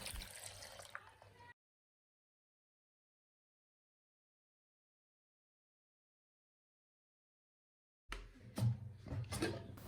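Water is poured into a mixer grinder jar holding carrots, with short splashing and trickling at the start and again near the end, and a long silent gap between.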